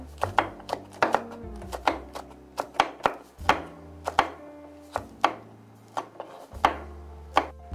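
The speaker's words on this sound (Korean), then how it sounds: "다음에는 고추를 썰겠습니다." A knife slices chili peppers on a cutting board in a run of crisp, evenly spaced knocks, about two per second, close and clear with no talk.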